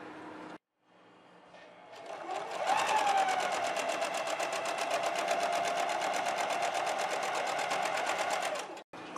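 A sewing machine runs steadily for several seconds, stitching the seam at the armhole, shoulder and neckline of a girl's outfit, with a fast, even needle rhythm that is close and clear before it stops.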